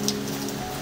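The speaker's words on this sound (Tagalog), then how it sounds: "Ang ulan, pagkanindot sa ulan, nga gihatag sa kainaiyakan." Rain falls steadily outdoors, a continuous soft hiss of drops with a faint low hum underneath and no voices, brief and even in level.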